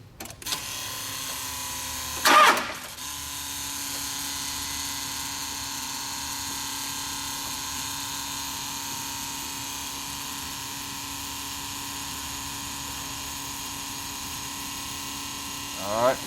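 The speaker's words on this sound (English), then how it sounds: "We're going to bump the truck and let the lift pump run" Dodge Cummins truck with a VP44 injection pump being bumped over, a brief burst of engine cranking followed by the lift pump's steady electric whine and hum running on alone for a long stretch.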